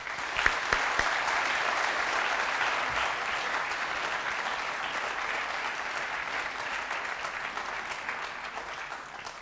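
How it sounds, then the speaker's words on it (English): Sustained applause from a large audience at a talk on non-violence, many hands clapping steadily for several seconds before slowly tapering off. "Let us give Sri Samdong Rinpoche another round of applause."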